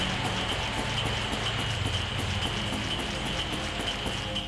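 Steady toxic rain from the video game Grandia HD Remaster falls as a dense, even patter at constant loudness, with a faint tonal hum beneath.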